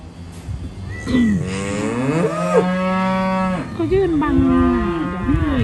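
Cattle on a farm, including heifers and calves, moo several times in a row. The calls are loud and near, bending up and down in pitch, with some faint background noise.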